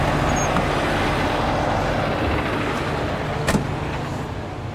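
A truck engine idles steadily nearby, its continuous low rumble running without break, with a brief clunk partway through and no one speaking.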